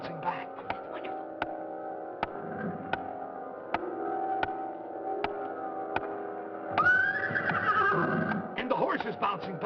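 A horse neighs and whinnies over a steady ticking clip-clop rhythm on a 1950s children's TV show, with a louder rising whinny near the end and a voice speaking alongside.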